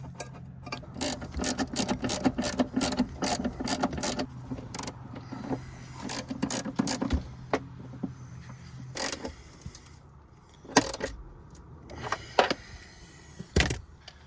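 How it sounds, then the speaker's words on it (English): Ratchet tightening the two battery bracket nuts on a Dodge Durango: bursts of rapid close clicking in several runs separated by short pauses, with a few louder knocks, no talk. "2 nuts, one on each side. Tighten those down."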